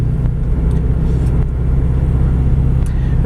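A 1986 Nissan D21 Hardbody King Cab pickup rolls through a stop in second gear, its engine a loud, steady low rumble heard from inside the cab, with no talking.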